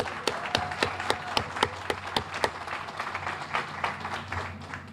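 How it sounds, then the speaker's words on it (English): An audience applauds for a student at a ribbon-cutting ceremony, a steady patter of many hands clapping with a few sharper individual claps standing out over roughly five seconds. "Go ahead, give him a round of applause"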